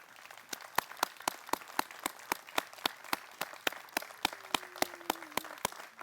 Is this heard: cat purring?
no